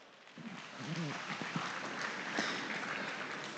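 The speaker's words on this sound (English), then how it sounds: "So let's give all of these students here a nice round of applause." Applause from the crowd at a cattle show, a feeder calf and market beef show for FFA students at a state fair, rising into steady broadband clapping that fills the arena, with a few voices briefly audible near the start.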